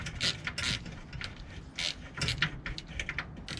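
A wrench backs out a 10 mm exhaust heat shield bolt on a Nissan 240SX, producing close, quick ratcheting clicks in short bursts with brief pauses between them.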